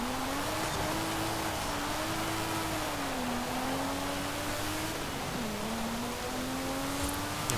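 In the Forza Horizon 5 game, a 1965 Toyota Sports 800's small engine drones steadily under acceleration, its pitch climbing, dropping briefly at a gear shift, then rising again, heard at a moderate distance over road noise.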